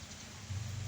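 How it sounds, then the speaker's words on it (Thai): Light rain falls onto bare dirt ground as a faint, steady hiss of patter, lasting about a second with a slightly fuller low rumble toward the end and no voices. "บรรยากาศฝนตกครับ ฝนตกในดินครับ ก็ไม่ค่อยแรงเท่าไหร่ครับ"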